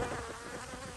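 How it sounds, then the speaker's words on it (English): Honey bees buzzing at a hive in an apiary, a steady, dense, faint hum from many insects at once with no clear breaks. "trying to help the bees recognize their hive when they come out and do their orientation flights"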